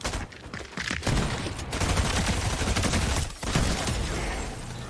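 Dense, continuous assault rifle fire from Fortnite, loud rapid bursts running almost unbroken with a brief gap midway.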